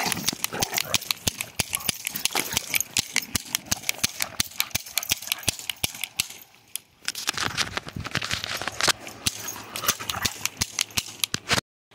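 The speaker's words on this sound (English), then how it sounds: "I can't let that dog get away again." A cartoon dog runs in rapid, rhythmic patters of quick footfalls, fairly close, broken by a short pause midway before the pattering resumes.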